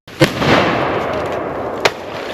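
Two sharp, loud shotgun blasts ring out on a duck hunt in a swamp, the first followed by a long rushing echo and the second landing about a second and a half later, with no talk.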